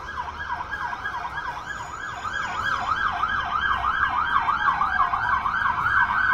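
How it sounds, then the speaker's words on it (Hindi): Wailing fire engine sirens sweep up and down repeatedly over traffic rumble in Israel, growing slightly louder as the vehicles pass. "ये सायरन बजाते हुए फायर ब्रिगेड की गाड़ियां जा रही है।"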